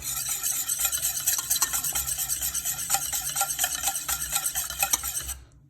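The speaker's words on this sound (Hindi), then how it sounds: "ये रहा हमारा 1/2 kg दही, को अच्छे से पेंट लेंगे विस्क के साथ" A whisk works through half a kilo of yogurt in a bowl, a steady, fast, close scraping and clinking that runs continuously before stopping abruptly near the end.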